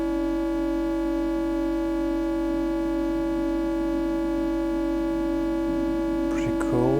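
An EMS Synthi-style ring-modulated tone built in VCV Rack and sent through reverb: a steady, sustained metallic drone with fixed harmonic partials humming continuously at even loudness, with a brief brighter flicker near the end.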